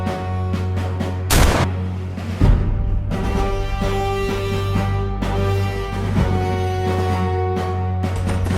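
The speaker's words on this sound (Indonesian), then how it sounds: "Mereka menembaki kita." Battle scene gunfire in an AI-made war film set at a Dutch base, sharp loud shots and blasts cracking out at irregular intervals over a droning, layered background.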